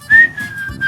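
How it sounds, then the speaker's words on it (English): A person whistles one steady, clear sustained tone close up, lasting under a second, with soft breathy noise underneath. "His brother can whistle."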